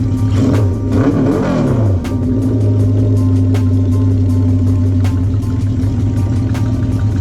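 A motorcycle with a rebuilt top end, running with no exhaust baffles, gives a loud, close, raw engine drone that rises in a quick rev at the start and then holds a steady rumble.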